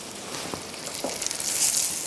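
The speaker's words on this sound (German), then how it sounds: "Olivenöl mag ich immer gern zum Anbraten." Food frying in olive oil in a pan, a steady soft hiss and sizzle that swells slightly toward the end, with no talking over it.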